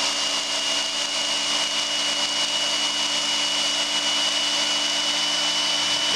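An electric belt knife sharpening machine runs with a steady, even motor whir and belt hum, continuous and fairly loud throughout, winding down slightly at the very end.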